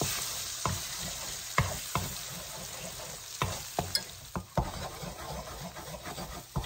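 Eggs frying in a wok for Indonesian mie goreng make a low, constant sizzle, and sharp spatula scrapes against the wok come at uneven intervals; nobody talks.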